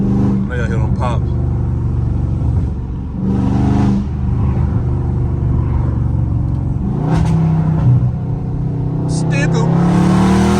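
Dodge Charger Scat Pack V8 revs and accelerates hard in traffic, a loud, close exhaust roar with crackling pops as it shifts, and a voice talks over the engine throughout.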